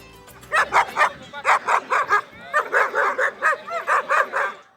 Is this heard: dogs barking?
yes